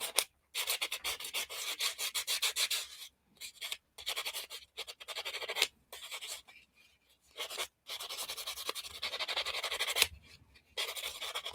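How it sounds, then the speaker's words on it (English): Hand sanding of a patina metal jewelry piece for a journal, quiet close-up rasping strokes in quick repeated bursts with brief pauses between passes. "I just really sand it down till I get it to look the way that I want it to look"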